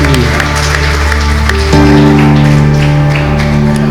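A church congregation applauding during a worship service, loud and sustained clapping over a held tonal backing of music, with a brief shift partway through.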